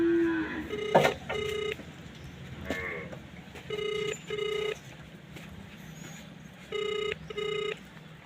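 An outgoing phone call rings through, giving repeated paired bursts of electronic ringback tone at moderate loudness over a faint outdoor background, with animal calls and knocks early on.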